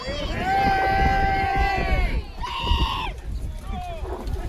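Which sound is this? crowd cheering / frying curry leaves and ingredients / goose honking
crowd cheering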